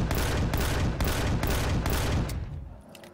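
Rapid bursts of gunfire hammer at a turret in the video game Empyrion: Galactic Survival, five or six loud regular volleys close together before trailing off at the end.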